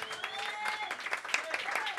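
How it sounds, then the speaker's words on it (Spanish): A live audience claps for a band on a Spanish TV show, brisk crowd applause with a voice talking over it and faint tonal music lines running through. "este aplauso es para vosotros"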